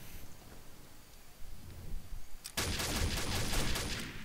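Gunfire in the online shooter Combat Arms: a sudden dense burst of rapid shots erupts midway after quieter ambient rumble, loud and sustained to the end.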